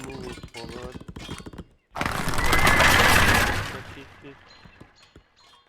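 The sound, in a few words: horses neighing in video game 0 A.D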